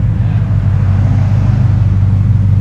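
A 2017 Dodge Charger 6.4L Scat Pack with dual exhaust and a Vibrant resonator gives off a loud, deep, steady rumble close by, with no talking.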